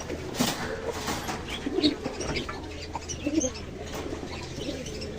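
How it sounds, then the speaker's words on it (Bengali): Soft, repeated cooing of fancy and Giribaz pigeons close by at a pigeon shop in Khulna, several low calls in irregular bursts over a faint background hum. "এটা কবুতর"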